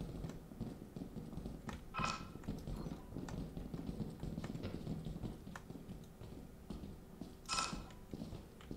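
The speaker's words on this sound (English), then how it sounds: "I hear some footsteps." Footsteps in the video game Lethal Company patter quietly and rhythmically at low level, with two brighter sharp clacks standing out among the soft steps.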